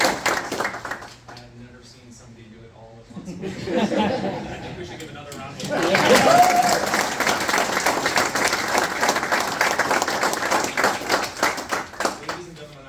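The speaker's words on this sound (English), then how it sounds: "I think we should give another round of applause." Audience applause at a US Air Force promotion ceremony starts after a few seconds and builds into sustained, fairly loud clapping from a crowd indoors, preceded by someone speaking and with chatter underneath.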